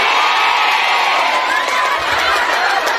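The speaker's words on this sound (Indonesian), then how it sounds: "Tepuk tangan buat Perhamus Bekasi, luar biasa." A crowd at a Perhamus Bekasi religious gathering cheers and shouts loudly in a steady, dense roar of voices, with some high whoops rising above the din throughout.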